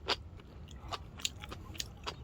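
Soft, close crunchy chewing of enoki mushrooms with several moist bites and squeaks, quiet and intimate, no talking.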